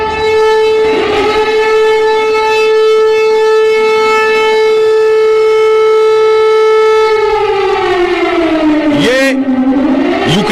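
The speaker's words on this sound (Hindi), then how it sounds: "सायरन लगातार लवीव में बोल रहा है।" A loud civil defense siren in Lviv, Ukraine wails on a steady held tone, then its pitch slides downward and swoops near the end.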